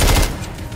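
A short loud burst of rapid gunfire in the video game Call of Duty MW III, close and fading quickly within a second.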